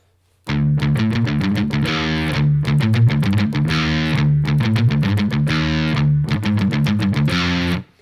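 Distorted electric guitar chugging the palm-muted verse riff of a song, tight choppy rhythm with occasional ringing accents, loud and close for several seconds before stopping.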